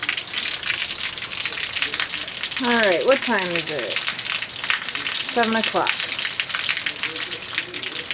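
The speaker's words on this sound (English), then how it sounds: "The rain is coming down sideways." Heavy rain from Hurricane Matthew pours down sideways in a dense, steady roar, with someone speaking briefly twice over the downpour.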